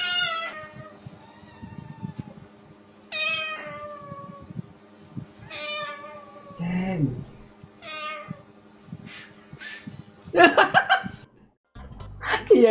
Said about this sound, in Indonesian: Iya ya, kucing kan ngono ya.